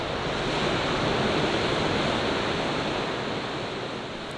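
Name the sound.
80-foot waterfall at Big Sur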